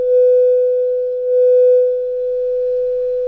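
A steady 1000 Hz sine test tone passed through a 1176 compressor plugin, holding at one pitch with faint harmonic overtones, loud and unbroken throughout with no voices.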